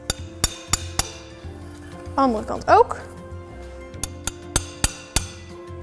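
Cut glass scored with a glass cutter is tapped open around a circle, giving a series of sharp, bright clicks spaced irregularly. A person speaks briefly partway through.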